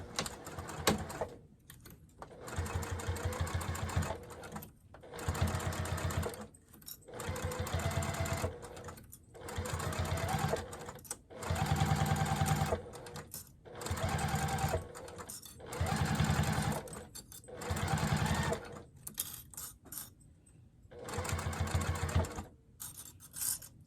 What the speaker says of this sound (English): just go ahead and start sewing at 1/8 of an inch seam allowance.